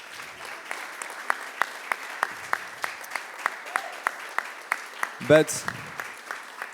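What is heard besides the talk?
audience applause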